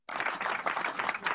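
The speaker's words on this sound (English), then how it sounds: "You deserve an applause." A short, steady burst of applause fills the whole moment, a dense wash of clapping that starts abruptly and holds at an even level without any voices.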